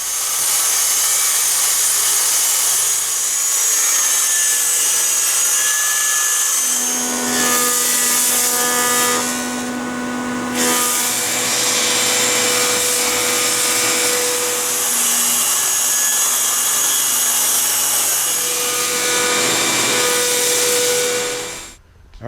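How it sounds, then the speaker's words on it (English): Power saw ripping rough cut cypress boards for chicken coop trim, a loud steady whine that runs continuously for about twenty seconds, its pitch shifting slightly as the cut loads and eases, then cutting off at the end. "I've been ripping down this rough cut cypress"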